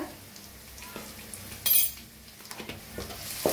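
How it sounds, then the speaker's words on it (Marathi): Curry leaves and a pinch of asafoetida hit hot oil with roasting masala in a pan, giving a short, brief burst of sizzle among faint spoon scrapes and clinks. "त्याच्यात टाकूया कढीपत्ता, थोडंसं हिंग"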